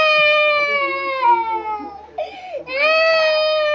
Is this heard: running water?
no